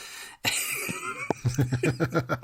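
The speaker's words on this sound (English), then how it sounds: "You've had that cough for the last 2 years straight" A sudden harsh cough breaks out, followed by a rapid series of rhythmic, breathy hacking bursts close to the listener.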